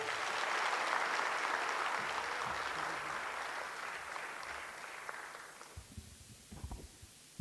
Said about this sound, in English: Can you go a round of applause?